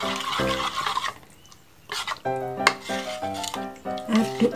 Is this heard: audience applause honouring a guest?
no